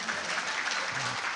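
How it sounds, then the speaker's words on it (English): Audience at a Chinese government scholarship anniversary celebration clapping steadily as a dense, close crowd, with a faint voice murmuring low underneath. "you can clap for me"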